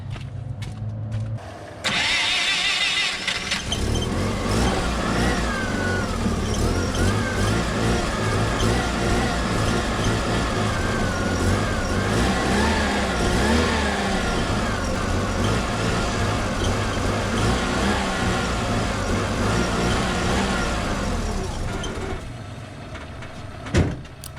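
A Triumph GT6 car engine cranks and catches after a couple of seconds, then idles steadily and loudly close by for about twenty seconds before a short pause and a final knock.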